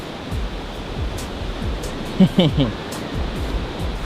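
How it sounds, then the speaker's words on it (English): Ocean surf at La Union in the Philippines washes in as a steady, broad rush of waves, with brief voices breaking through midway. "Look at the ocean."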